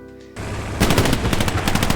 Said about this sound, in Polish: Słyszałem strzał do nas?